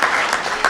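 A short, loud burst of audience applause at a civic event about youth access to FIFA World Cup matches in Seattle, dense clapping throughout.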